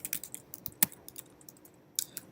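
Code comments are typed on a computer keyboard in quick, crisp clicks, an uneven run of close keystrokes with short pauses between bursts.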